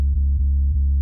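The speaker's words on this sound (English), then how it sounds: "So this is a basic sine wave," A basic sub bass sine wave synth in Cubase drones steadily and loud, a deep low tone that briefly dips a few times before ending abruptly.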